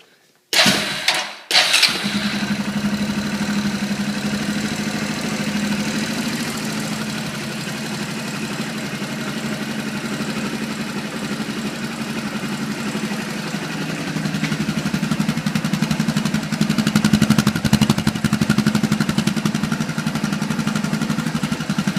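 A 2012 Yamaha Grizzly 350 ATV engine with stock exhaust cranks and catches, then settles into a steady, loud idle that runs on, its rumble rising slightly near the end.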